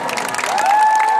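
Brief burst of audience applause and light cheering for nominees at an award ceremony, a short, full crowd roar with a faint whistle-like tone running through it.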